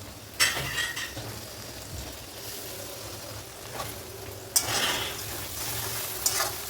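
Onions fried reddish-brown in a pan, then a ginger, cumin, chili and coriander paste stirred in, giving a steady soft sizzle with scraping stir strokes and a couple of sharper utensil knocks, no talking.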